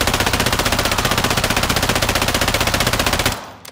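Steady rapid automatic fire from a weapon on the firing range in Warzone 2, tested with a Cronus Zen anti-recoil script, rattles loud and close in an even machine-gun rhythm for over three seconds before cutting off.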